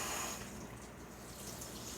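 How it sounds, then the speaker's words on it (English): Water runs steadily from a tap into a jar, a close, continuous hiss and splash without talking. "I could run some water in that"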